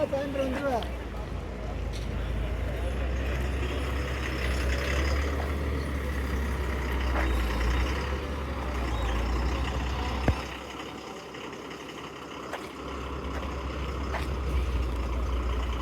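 A brand-new SETC premium bus idles and maneuvers close by, a steady low engine rumble with brief air-brake hisses and clunks, while people talk over it.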